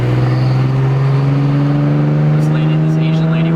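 A loud car exhaust drones steadily up close with a deep, rumbling engine hum that rises slightly in pitch, continuous throughout, with voices faintly underneath.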